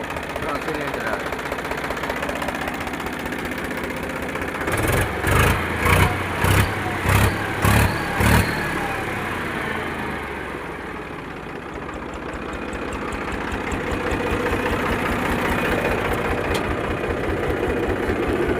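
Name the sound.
three-cylinder tractor engine idling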